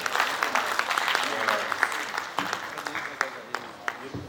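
A day-two conference audience gives a round of applause, moderately faint and somewhat distant, with scattered sharper claps near the end and speech faintly mixed in.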